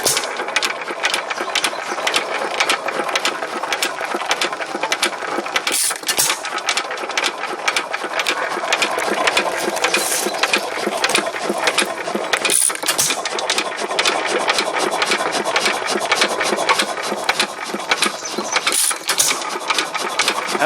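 A Hercules Economy hit-and-miss engine, made in Wellman, Iowa, runs on a spark box with a steady, dense mechanical clatter that carries loud and continuous, broken by a few brief dips.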